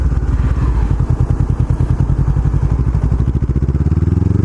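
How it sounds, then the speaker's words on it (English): A 2017 Honda CBR500R engine lugs at low RPM in the wrong gear, with loud, close, rapid chugging pulses that stay uneven and rough, then deepen slightly toward the end. "If you're in the really low RPMs and you're in the wrong gear, the engine will bog down a little bit."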